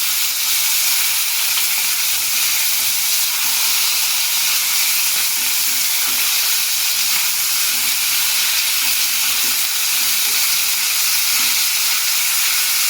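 Pieces of rohu fish sizzle in a pan of oil, a loud, constant close-up crackling hiss with no voices, holding steady from start to finish.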